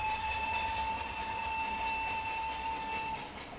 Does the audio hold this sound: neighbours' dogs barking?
no